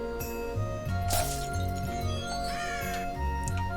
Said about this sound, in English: Heard another crow somewhere.